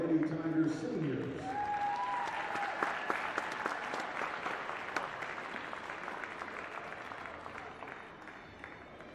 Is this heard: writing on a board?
no